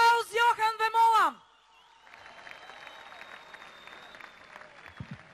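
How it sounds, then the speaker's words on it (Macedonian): At a patriotic welcome-home event, a loud voice speaks briefly, then a crowd breaks into steady, moderately distant applause that carries on to the end. "Да го поздравиме со најсилен аплауз"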